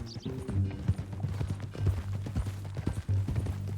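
Horse hooves in the Red Dead Redemption 2 video game clip-clop in a steady, close rhythm over a low background hum.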